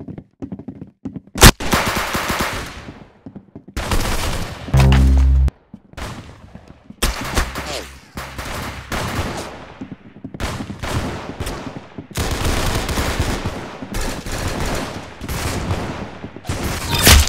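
Rapid gunfire in the Roblox shooter Arsenal, bursts of automatic shots and single cracks spread across the whole stretch, loud and close, with brief gaps between volleys.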